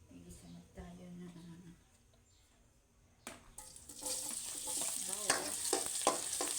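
Garlic hitting hot cooking oil in a pan for pancit with sardines, a faint tap and clink first, then a steady bright sizzle that swells and keeps crackling close by.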